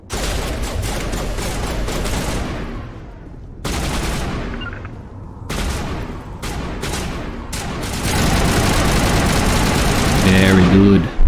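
Sustained automatic assault rifle fire in the sci-fi shooter Mass Effect, long loud bursts broken by short pauses, with a voice speaking over the gunfire and combat noise building toward the end.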